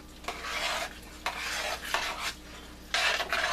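Drained macaroni noodles stirred in a pan, making loud wet scraping sweeps in three or four long strokes separated by brief pauses, close and clear with no talking.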